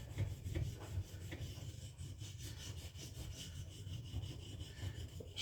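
A knife blade is worked back and forth on a sharpening plate, giving a steady run of close, gritty scraping strokes in a quick, even rhythm with no other sounds.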